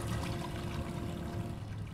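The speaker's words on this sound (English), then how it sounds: "It flushes." A toilet flushes in a video game, heard as a continuous, fairly faint rush of running water that lasts through the short clip, with no talking.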